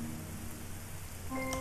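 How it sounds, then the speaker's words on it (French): Steady rain patters in the game Rain, a dense even hiss of drops with a faint tonal chime rising near the end. "ces jolis clapotements qu'on peut entendre en arrière-fond. Celui de la pluie"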